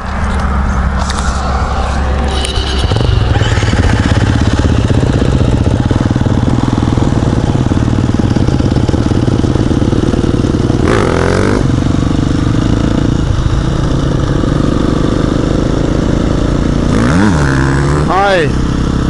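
A motorcycle engine runs throughout, rumbling steadily up close with a few rising revs, while people talk over it.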